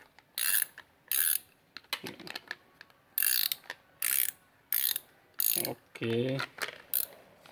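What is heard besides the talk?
Multipro combination ratchet wrench clicking as it turns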